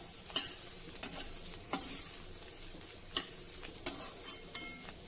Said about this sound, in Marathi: शेंगदाण्याचा कूट घातल्यानंतर 1-2 मिनिट पुन्हा ही भाजी छान परतून घ्या